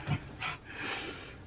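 Dogs playing indoors, giving a few short breathy pants and snorts with a brief low growl at the start, close and moderately loud, with no talking.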